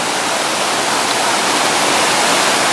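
A mountain stream on a Smoky Mountains trail rushes down a series of small stepped cascades, a steady, loud, close broadband roar of water with no pauses.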